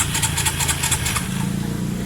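A Suzuki Spin scooter's starter motor cranks when a screwdriver bridges its terminals: a loud, close, steady whirring churn lasting about two seconds.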